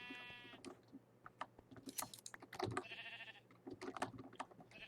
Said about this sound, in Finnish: Lammas.